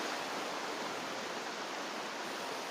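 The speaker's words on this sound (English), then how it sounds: "And look at the fucking river." A river flowing through mountain wilderness, a steady, dense rushing wash of water that stays even and unbroken throughout, with no voices over it.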